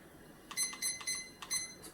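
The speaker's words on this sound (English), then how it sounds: "I've got this little timer." A small kitchen timer being set for boiling noodles gives several short, high electronic beeps in an irregular series, fairly faint against a quiet room.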